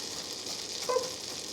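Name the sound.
French toast frying in melted butter in a pan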